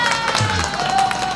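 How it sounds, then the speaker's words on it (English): A canned applause effect triggered from a soundboard button: a short burst of crowd clapping and cheering, steady and fairly loud for just over a second. "Applause button, Mr. Come on,"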